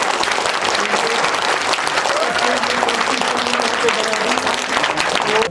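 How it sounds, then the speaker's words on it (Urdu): Sustained applause from an audience at a school Qirat and Naat recitation competition, loud and steady clapping with crowd noise throughout, fading slightly at the very end. "اس کے لیے زوردار کلیپس آپ کرنا چاہیے۔"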